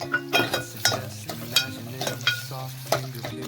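Potatoes tossed into frying moraiyo (barnyard millet) with green chillies, sizzling steadily in hot oil while a spoon stirs and scrapes the pan in repeated strokes, close up with no talk.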